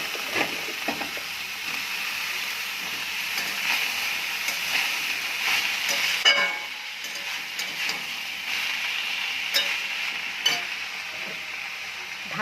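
Mashed banana flower hits a pan of fried potatoes with a steady, loud sizzle and hiss while a spatula scrapes and stirs in sharp intermittent clacks, no voices present.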